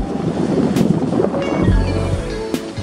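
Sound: ocean swell breaking on shore

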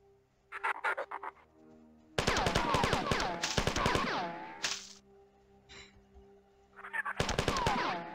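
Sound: old-school gunfire sound effects in the video game Marathon

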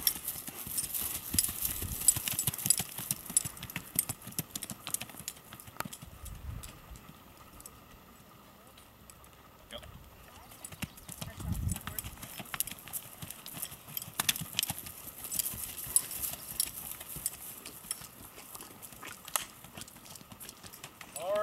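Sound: Missouri Foxtrotter mare's hooves while cantering

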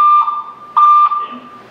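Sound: building fire alarm sounding during a test

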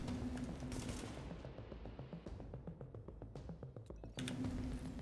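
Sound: gunfire in the video game The Division

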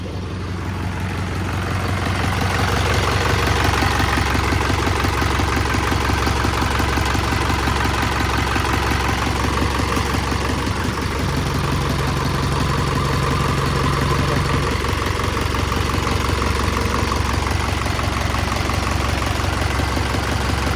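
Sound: car engine idling

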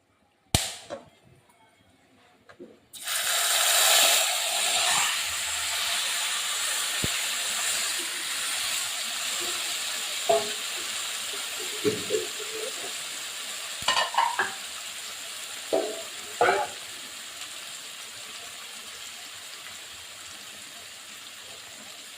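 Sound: chicken pieces added to hot spiced oil and frying

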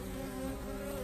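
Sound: honey bees buzzing at hive entrance

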